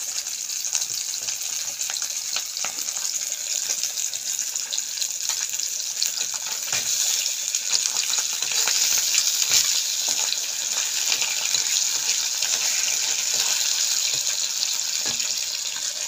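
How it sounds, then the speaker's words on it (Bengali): Two fish frying in hot oil in a home kitchen, a dense continuous sizzle with crackles and pops, close and steady throughout without speech. "দুটো মাছ আগে ভেজে নেব।"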